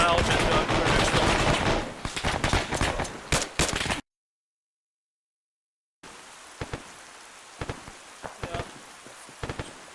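Rapid automatic gunfire and explosions in the military video game ARMA 3: loud, dense bursts at first, a brief dead silence, then sharper scattered shots that sound farther off.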